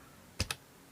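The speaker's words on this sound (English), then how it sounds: "what I will do is to type input." Two quick keystrokes on a computer keyboard while entering code, close and crisp, each a short sharp click with near silence around them.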